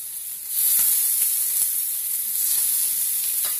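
Scallops sizzling in butter in a hot pan over low heat, a steady bright hiss that swells as they go in and carries on with faint crackles, close and alone.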